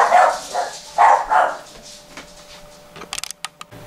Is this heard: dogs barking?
yes